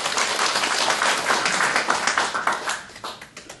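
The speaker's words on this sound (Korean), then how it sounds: "다시 한번 발기인 분들께 박수 한번 부탁드리겠습니다." Applause for the 21 founding members at the inaugural founders' meeting of the Cheondogyo Research Institute, a steady indoor crowd clapping that holds loud and dense, then thins into scattered claps near the end.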